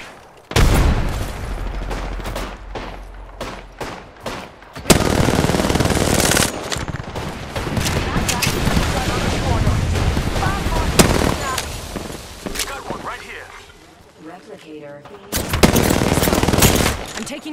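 Apex Legends combat: loud, close automatic gunfire in repeated bursts with heavy impacts, brief lulls between volleys, and some talk mixed in under the shooting.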